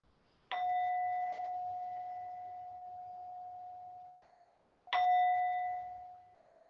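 A meditation bell is struck twice during a mindfulness session, each strike a clear ringing tone that hangs and slowly fades over several seconds in an otherwise quiet room.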